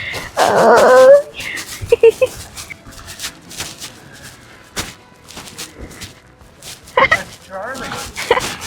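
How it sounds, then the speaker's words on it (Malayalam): A puppy yips and whimpers in short, high bursts near the start and again near the end, with clicks and shuffling noises between and people talking intermittently around it. "പട്ടിക്കുട്ടി ഇരുന്നുണ്ട്, ഓടി ഇരുന്നുണ്ട്."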